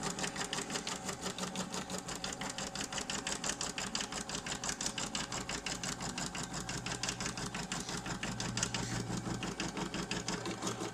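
A sewing machine stitches the zipper placement on a mini backpack bag, running in a fast, even, continuous rattle of needle strokes close to the microphone.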